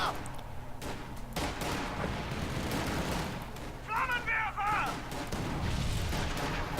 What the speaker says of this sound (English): Arms fire!